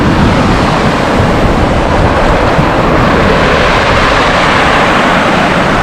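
Strong wind blows at a seaside beach on the Black Sea coast at Lazarevskoye, a loud continuous roar buffeting the microphone and mixing with the rush of surf, steady throughout with no voices.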